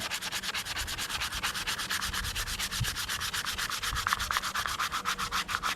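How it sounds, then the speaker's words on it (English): Sandpaper rubbed by hand over a carved wooden woomera atlatl, knocking down high spots with coarse grit, making steady rapid back-and-forth scratchy strokes throughout, close and continuous with no talking. "I'm trying to do the majority of the high spot takedown right now, because it'll be a lot harder to do with smaller grits when I get to them."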